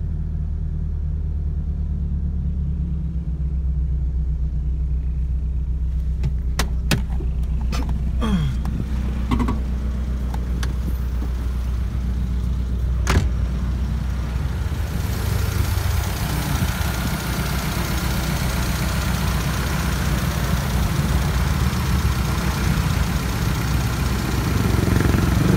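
A car engine idling after its battery was fixed, a steady low rumble that carries on without a break, with a few sharp clicks early on and a broader hiss building in the second half.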